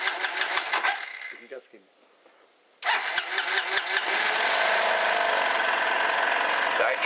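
A motor scooter started without a battery charger: a brief whirring crank, a short pause, then the small engine catches and settles into a loud, steady idle close by. A person speaks briefly.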